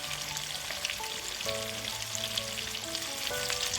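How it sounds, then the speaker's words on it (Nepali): Boiled chicken gizzards frying in a pan over medium-high heat, a continuous close crackling sizzle with scattered pops and faint stirring, no voices over it. "अब यसलाई मिडियम टु हाइटमा फेरि चलाउँदै 5-7 मिनट जति यसलाई फ्राई गर्नुपर्छ"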